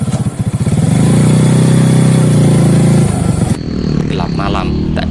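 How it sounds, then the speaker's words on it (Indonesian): A service motorcycle starts up and revs loudly nearby, its engine buzzing steadily before dropping to a lower throbbing idle, with a voice talking over it. "Bergegas ia menyalakan motor dinas"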